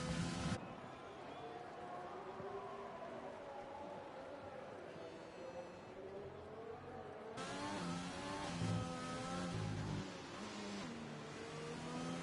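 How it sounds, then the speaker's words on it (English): An F1 car engine on a lap of the Spain circuit in the F1 2020 video game, a continuous high whining drone that rises and falls with gear changes, heard under steady commentary. "Here's Gomez Indu in the McLaren."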